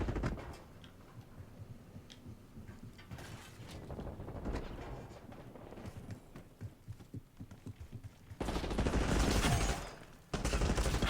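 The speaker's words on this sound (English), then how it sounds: "HVT is taking fire" Gunfire in Call of Duty: Black Ops 6, a string of rapid shots pattering at moderate distance, then a louder close burst of sustained firing near the end.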